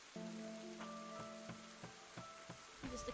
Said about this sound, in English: And just the constant backdrop of the rain as well.